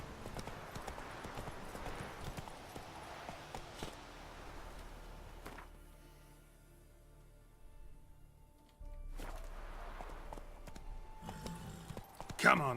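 Roach the horse trots in The Witcher 3 with steady clip-clop hoofbeats, a quieter stretch in the middle before the hooves return; someone talks over parts of it.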